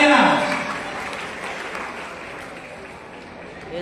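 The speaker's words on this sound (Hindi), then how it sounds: "तालियां" A crowd at a Maharaja Suheldev jayanti gathering breaks into a burst of applause that starts loud and fades gradually over a few seconds.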